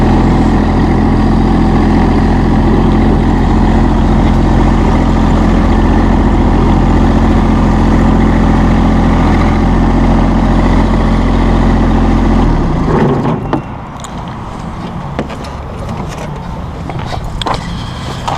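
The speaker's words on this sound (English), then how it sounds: "That's the new GC series from Massey Ferguson." A Massey Ferguson GC1723E sub-compact tractor engine idles loud and close with a steady, even rumble, then cuts out abruptly, leaving quieter mechanical clicks and creaks.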